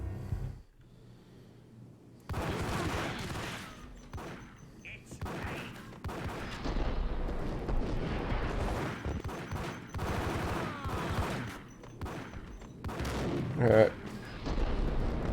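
Gunshots in Max Payne, a quiet opening followed by a sustained exchange of booming shots and bursts, loud and near, with a voice talking over the firefight.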